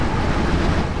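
Steady, rumbling wind buffets a 1977 Chevy C10 pickup truck while driving, a dense low roar with no pauses and no voices.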